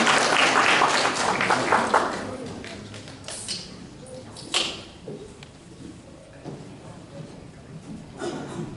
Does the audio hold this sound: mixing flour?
no